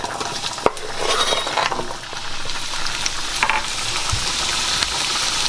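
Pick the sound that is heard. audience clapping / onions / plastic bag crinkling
onions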